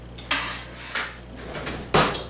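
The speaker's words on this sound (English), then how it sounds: "I'm going to stir it." Metal spoon stirring a pot of boiling macaroni and cheese, giving three separate clanks against the pot spaced about a second apart, fairly close, with a low steady hum between them and no talking.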